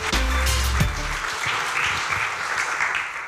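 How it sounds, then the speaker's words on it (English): An audience applauds after an indie game pitch at PG Connects Helsinki 2016: steady, sustained clapping from a crowd, with a short burst of tonal music at the start fading under the clapping. "Let's give both of them a round of applause."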